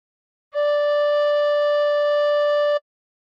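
One hard-blown tin whistle note with five holes covered, a clear, steady tone with strong overtones held for over two seconds, close and solo.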